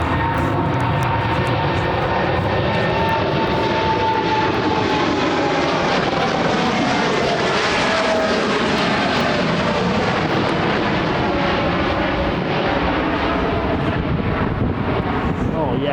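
A United airliner roars overhead while landing at London Heathrow, a loud, sustained jet rumble that swells and fades, mixed with wind buffeting the microphone, while people chatter excitedly nearby.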